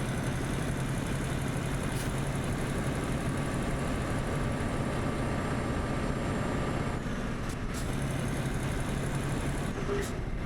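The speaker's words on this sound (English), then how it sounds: "Let's hear this engine sound and see more of the scenery." A truck engine in Euro Truck Simulator 2 runs at a steady, continuous drone for the whole stretch, with a constant rumble and a few faint tonal changes near the end.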